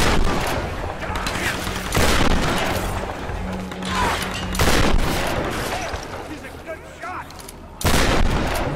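Gunfire in the game Tomb Raider Definitive Edition: a series of loud, close shots and blasts a second or two apart, with bursts of rapid fire between them and occasional talk.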